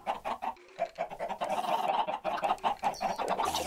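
Minecraft chickens cluck in a steady run of short, choppy bursts, loud and close, with several birds overlapping and no talking over them.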